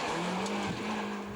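Rally car on a short test run before the Braine-le-Comte 12 Hours in 1999, its engine droning loud and close with a brief tire squeal partway through.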